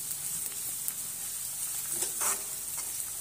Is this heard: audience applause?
no